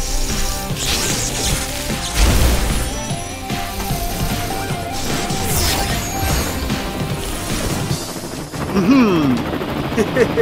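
A cartoon helicopter whirs and clatters amid busy music and crashing effects, with a loud thump near the start and a burst of activity toward the end.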